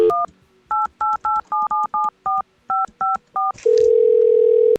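A telephone number is keyed in within the Manamon video game: about a dozen crisp dual-tone beeps in an uneven quick rhythm, followed by a steady loud ringing tone.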